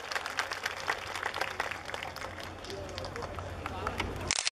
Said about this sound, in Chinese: 请大家用热烈掌声欢迎我们黄伟哲市长